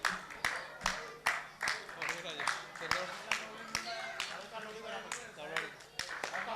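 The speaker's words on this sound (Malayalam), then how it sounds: "കൈയടി കൈയടി." People at the Chirakkal Association Dashotsavam 2018 celebration clap in scattered, fairly regular strikes under a voice talking over them. The clapping is moderately close but thin, not a full wash of applause.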